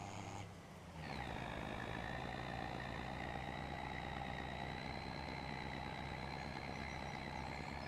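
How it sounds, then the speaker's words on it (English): A loaded timber truck in Farming Simulator 25 drones with a strained, steady engine note that rises in pitch after a brief dip, sustained and fairly close throughout. "this truck sounds like it's about to give out"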